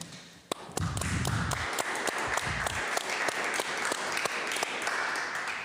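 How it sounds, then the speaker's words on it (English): An audience gives a warm round of applause for a speaker at a conference: a steady wash of clapping with crisp individual hand claps and a few low thumps early on, holding at an even level. "please, behind your laptop screens, give Mare Straatmans a warm round of applause."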